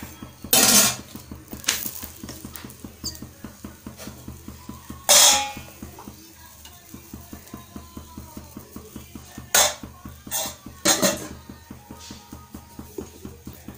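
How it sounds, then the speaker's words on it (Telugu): A spoon clinks and scrapes against a pot while stirring bagara rice, with sharp metallic knocks at irregular intervals over a steady low background hum. "నెక్స్ట్ స్పూన్తో తిప్పుకోవాలి"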